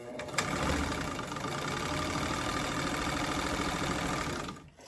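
A vintage sewing machine runs steadily at a constant speed, its close, even mechanical whir holding unbroken for several seconds before stopping at the end.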